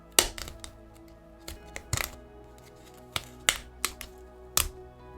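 Sharp blade cuts through Pokemon trading cards for a Jolteon diorama, giving about ten crisp snapping clicks spaced irregularly, close and distinct with no speech.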